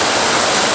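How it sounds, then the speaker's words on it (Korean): Yongmun Waterfall, the eighth gorge near Gapsa temple, roars in a steady, dense broadband rush of falling water, loud and close with no pauses for the whole short stretch. "여기가 영문폭포."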